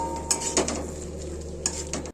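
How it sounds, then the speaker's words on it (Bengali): Chicken pieces stirred in a pan with fenugreek for spinach chicken, a couple of brief utensil scrapes and clinks over a low steady background hum. "এই চিকেনগুলো আমি এবার দিয়ে দেব। খুব ভালো করে নাড়াতে হবে।"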